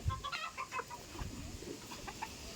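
Chickens clucking in quick, irregular bursts, fairly close, over a low background murmur.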